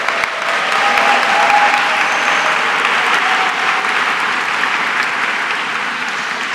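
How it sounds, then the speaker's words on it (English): Audience applause at a master's graduation ceremony held in a church, a full, sustained clapping that fills the room steadily and fades slightly toward the end. "Please, an applause."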